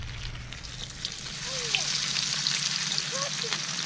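Battered, already-cooked snapping turtle meat crisping in hot oil gives a steady, close sizzle and crackle throughout, with no talk over it.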